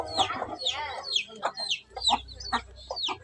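Hen clucking on a home poultry setup, with a few sharp, repeated clucks and squawks close by over low background rumble.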